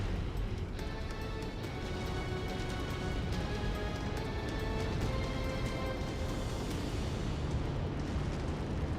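Missile explosions and heavy combat rumble fill a MechWarrior 5: Mercenaries battle, a continuous dense roar with scattered bursts and crashes, moderately loud throughout with no pauses.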